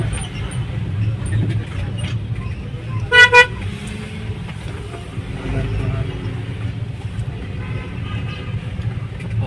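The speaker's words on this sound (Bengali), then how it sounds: "কত জ্যাম লাগছে, সারা রাস্তা বন্ধ" Road traffic jammed near Dayamir and Tajpur in Sylhet rumbles steadily with engine drone, broken by a pair of sharp, loud horn blasts midway and fainter honks later, with a voice speaking over the noise.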